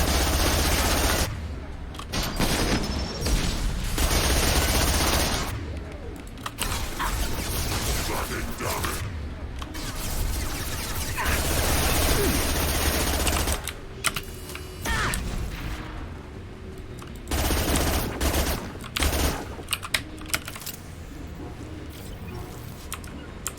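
Rapid bursts of gunfire from a weapon in the video game Mass Effect 2 crackle loudly in dense volleys, broken by brief pauses, with talking mixed in.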